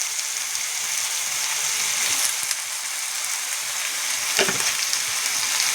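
Tomato fries in a pan with chili powder and salt for tomato chutney, a dense, even sizzle heard close up with a few faint scraping stirs and no talking.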